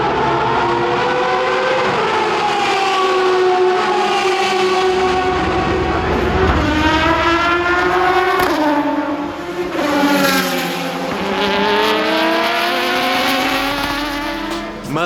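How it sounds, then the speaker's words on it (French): Legendary 1990s–2000s Le Mans endurance race cars pass by one after another, loud roaring engines rising and falling in pitch with Doppler sweeps as they rush past close up. "Écoutez-moi le passage des Racing Endurance légendes, les vieilles voitures du Mans dans les années 90 jusqu'à 2000. Écoutez le bruit fou des moteurs,"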